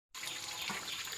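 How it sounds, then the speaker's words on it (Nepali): Tap water gushing steadily and loudly into a basin after starting abruptly, a continuous close splashing rush with no talking. "पानी चाहिँ आउँदै रोकिँदै गर्दैछ।"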